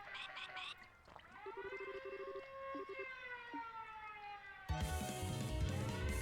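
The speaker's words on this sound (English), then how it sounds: "Oh, no. It's a siren." A video game siren sounds as a sustained, slowly gliding harmonic wail with a stuttering pulse beneath it, then gives way to a louder, denser burst of noise near the end.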